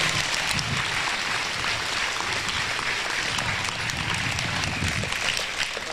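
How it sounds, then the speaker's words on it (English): Sustained crowd applause for the kids at the Rodeo Austin livestock show's market hog day, dense and even clapping filling the whole stretch from a large audience. "Let's give all the kids a round of applause"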